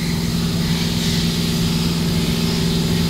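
A pressure machine runs loudly and continuously in an engine workshop where a Caterpillar C7 engine is being rebuilt, a steady droning hum with no pauses or talk.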